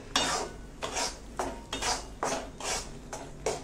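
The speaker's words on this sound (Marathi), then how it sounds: "आता ह्या तुपामध्ये कणिक भाजून घेते छान" Wheat flour being roasted in ghee for kada prasad, a spoon scraping the pan in a regular stirring rhythm of about six strokes over a faint sizzle, close and alone.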